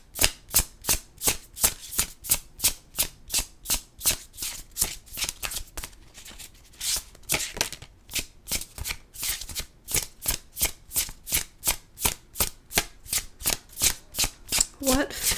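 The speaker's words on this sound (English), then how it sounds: "we're going to pull from the Fear Nothing, Manifesting Your Greatness Oracle deck by Amy Chase" An oracle card deck is shuffled repeatedly in a steady rhythm of crisp riffles and flutters, close and clear, with a brief softer pause midway and faint speech underneath.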